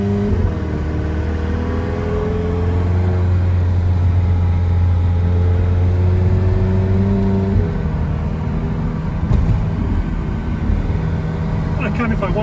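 McLaren 720S V8 engine droning steadily from behind the cabin, its pitch holding then shifting as gears change, loud and close with someone talking over it.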